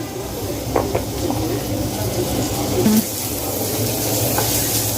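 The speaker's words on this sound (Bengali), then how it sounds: "কড়াইয়ে কিছুটা তেল দিয়ে দিয়েছি, এখন দিব পেঁয়াজ কুচি।" Chopped onion hits hot oil in a wok and sizzles with a loud, continuous hiss, with occasional stirring knocks and a voice speaking faintly underneath.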